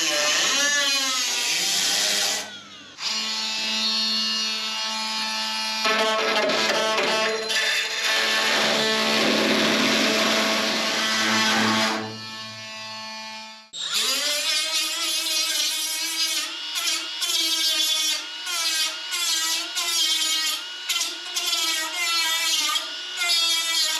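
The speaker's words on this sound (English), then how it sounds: "doing a quick sanding like that with my sanding disc" A sanding disc on a power tool grinds the body panel of a Datsun 280Z to expose spot welds, a loud, close whine that rises and falls in pitch as pressure changes, running almost continuously with brief pauses.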